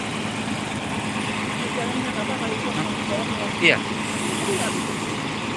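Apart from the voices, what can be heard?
ALS bus engine running at terminal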